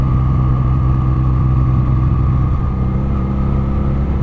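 A Benelli motorcycle with its stock exhaust runs steadily, a loud, continuous mid-low engine drone with a constant hum and no clear revving. It is close by, with no talk over it.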